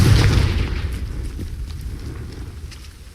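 A Confringo fire spell explodes in Hogwarts Legacy with a heavy, booming blast that hits loudest at the start, then rumbles and crackles away over a few seconds, with no talk over it.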